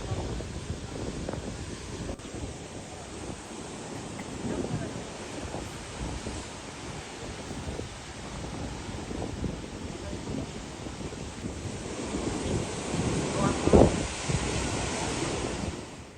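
Heavy floodwater on the Bhima River roars and rushes continuously through a burst Kolhapur-type weir, a broad steady wash of turbulent flow with wind buffeting the microphone.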